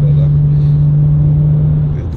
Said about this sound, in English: I'm driving my Beamer and I've not been driving this for ages